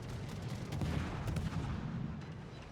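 Ship guns firing in the naval game World of Warships aboard the destroyer Oland, a quiet rumble of repeated booming shots over a low continuous engine drone, no voices.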